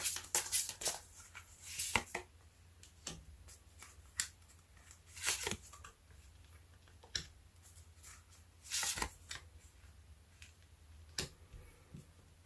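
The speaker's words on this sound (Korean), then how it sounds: "먼저 현재 상대방 속마음에 대해서 카드 뽑아보도록 할게요" Cards are shuffled and drawn for a card reading, heard as quiet, irregular riffles, flicks and soft taps scattered in bursts over a faint hum, close by and without speech.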